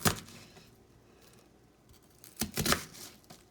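A knife cutting the last piece of an onion on a board, a few quick close chopping strikes separated by quiet pauses.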